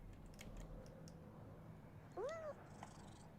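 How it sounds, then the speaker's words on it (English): A cat in the Destiny video game gives a single short rising meow while being petted, faint and close over a quiet background hum with light clicks. "I just got rewards for petting the cat."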